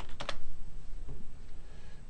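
Typing on a computer keyboard during CAD software work, a few close, crisp key clicks in a quick burst near the start, then softer scattered taps against a steady background hum.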